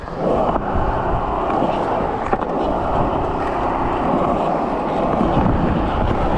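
Skateboard rolling and pumping through a skate park bowl, a steady loud rumble of wheels on concrete with wind buffeting the microphone and one brief knock midway, continuous throughout.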